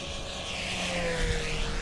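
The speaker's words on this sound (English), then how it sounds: "Actually, we're gonna do a high speed down the runway." An FMS Kawasaki Ki-61 Tony RC model airplane, 995 mm span, makes a fast low pass down a runway, its electric motor and propeller giving a steady, loud buzzing whine that shifts slightly in pitch as it passes.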